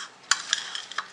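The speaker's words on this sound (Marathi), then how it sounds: "हे आता छान मिक्स करून घ्यायचे" A spoon scrapes and clinks through a drumstick pickle mixture in a pan, giving a few sharp stirring scrapes and taps over a faint background hiss.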